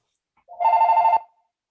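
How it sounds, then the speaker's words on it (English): A telephone rings once, a bright warbling electronic bell lasting about half a second, close and loud against an otherwise quiet room. "The phone's ringing."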